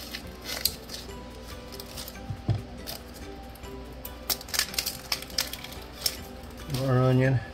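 An onion is cut in half on a cutting board, giving a few sharp, crisp crunches and knife taps close by, along with handling knocks and a brief low scraping near the end.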